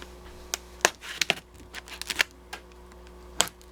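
Package wrapping around a Lionel LionChief train engine is handled and torn open, giving scattered close crinkles, taps and snaps at an irregular pace, fairly quiet, over a faint hum.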